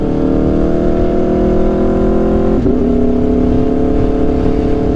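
An Aprilia RSV4 motorcycle fitted with an SC-Project CRT exhaust holds a loud, steady, close engine drone, dipping briefly midway before settling back into the same sustained revving tone.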